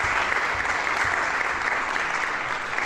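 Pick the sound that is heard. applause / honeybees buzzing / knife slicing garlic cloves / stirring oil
applause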